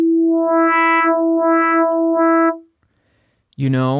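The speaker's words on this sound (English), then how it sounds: "frequency modulation, or FM synthesis" A bright, buzzy FM-synthesized tone from Ableton's Operator synth holds steady and swells in three pulsing waves, cuts off, and a voice starts talking after a short pause.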